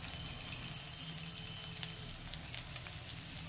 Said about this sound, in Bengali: এটাকেও আমি খুব ভালোভাবে ভেজে নেব